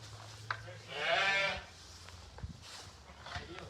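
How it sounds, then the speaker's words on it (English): Lambs on a rural farm bleat once in a clear, close call, with handling noises and a few soft thumps around it. "Show you some lambs."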